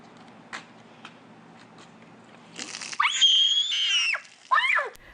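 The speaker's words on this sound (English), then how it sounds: "that's a high-pitched scream we heard there" A sharp, high-pitched scream rings out for about a second, followed by a shorter yelp, after a few quiet splashes and rustles.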